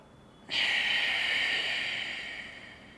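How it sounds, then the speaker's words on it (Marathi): During a breathing exercise, a single deep, forceful breath rushes through the nose close to the microphone, then slowly tapers off after a quiet start. "परत श्वास घेतला"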